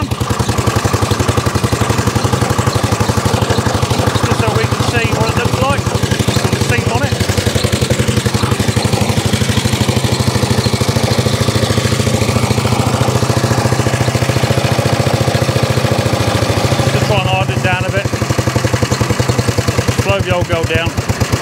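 A Dennis Z Type mower with a roller seat runs loud and close, its engine a steady pulsing rumble throughout, with a voice speaking over it at times.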